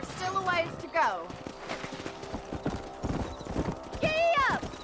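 Horse hooves clip-clopping at a steady riding pace in Red Dead Redemption, with a couple of whinnies over the top, close and clear, mixed with game music and ambience.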